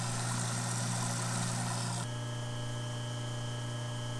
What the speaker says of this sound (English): turn on the disposal and make sure it's running good and there's no leaks.